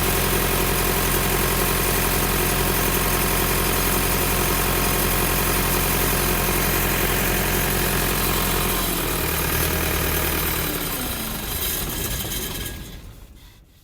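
A large diesel engine of a German-imported CLAAS Consul or John Deere 942 combine harvester idles with a steady, deep rumble, then winds down and shuts off, the sound fading to quiet at the end.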